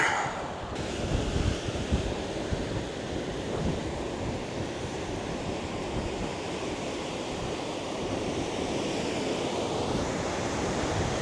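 Strong, gusty wind roars across the microphone on an island trail, a loud continuous rumbling buffet with surf-like rushing that never lets up.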